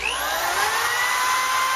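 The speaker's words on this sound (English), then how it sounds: "So we'll just drill this thing out real quick." A power drill bores through a steel receiver hitch, a steady loud high whine that holds for nearly two seconds before cutting off.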